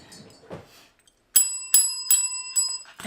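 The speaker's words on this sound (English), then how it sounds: "I'm looking for the bell." A bicycle-style bell rung during a paper folding tutorial gives four bright, ringing dings in quick succession after a short quiet pause, close and loud, with faint rustling just before.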